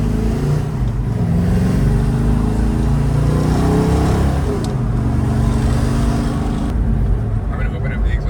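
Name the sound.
car engine accelerating with open exhaust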